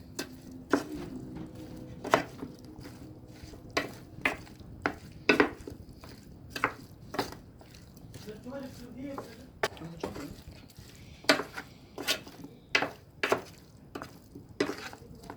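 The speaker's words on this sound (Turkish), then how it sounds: "Hazırladığımız sosumuzu etlerimizin, karışımımızın içine koyuyoruz. Hepsini harmanlıyoruz." Sauce being mixed into a meat mixture in a bowl for an oven-baked sauced meat dish, heard as a series of sharp, close utensil knocks and wet mixing thuds at an uneven rhythm, with quiet kitchen clatter in between.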